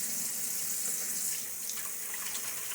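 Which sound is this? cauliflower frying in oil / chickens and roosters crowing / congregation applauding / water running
water running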